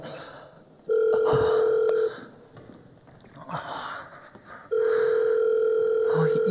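Telephone dial tone heard while a call is being placed, a steady tone running for about a second, stopping, then returning for about two seconds, with faint voices and room noise during the gap.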